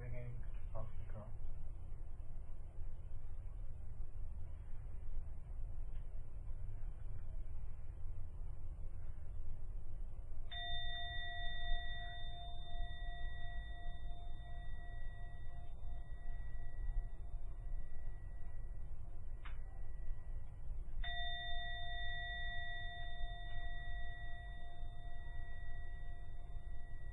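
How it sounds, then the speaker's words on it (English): A meditation gong at the end of a session at a meditation group sounds two long, ringing, sustained strikes about ten seconds apart, faint under a steady background hiss. "I'm now going to ring the gong 3 times."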